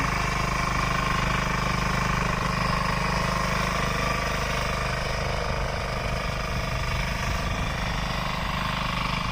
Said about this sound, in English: Now we will show a video on power weeder machine.